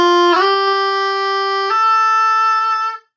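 A sustained reedy oboe tone shifts from F up to G with a brief blippy glitch at each change, then cuts off cleanly.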